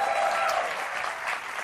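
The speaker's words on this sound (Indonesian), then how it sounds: "boleh kasih tepuk tangannya ya" Audience applause at a talk about a foreign hero's statue displayed in Japan: a short, dense burst of clapping from a crowd, steady and fairly loud throughout.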